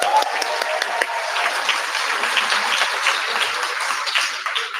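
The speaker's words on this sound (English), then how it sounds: "Let's give him another round of applause" A rally crowd gathered to demand an end to genocide breaks into sustained applause, a dense, loud, continuous roar of clapping with a faint underlying murmur of voices.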